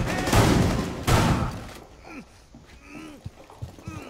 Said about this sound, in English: Crap, they're shooting from into the window.